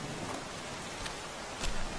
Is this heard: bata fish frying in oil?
no